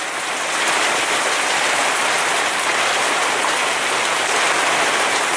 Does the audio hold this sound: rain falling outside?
yes